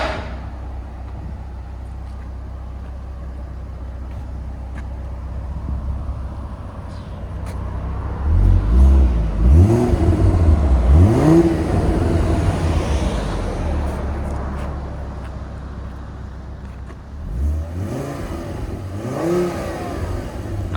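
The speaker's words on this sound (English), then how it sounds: "(2011) Volvo C30, a Borla crossflow muffler." A 2011 Volvo C30 with a 2.5L turbo engine and a Borla crossflow muffler idles with a deep exhaust drone, then revs up hard twice in quick succession. It settles back and blips again, recorded loud and close from outside with no talking.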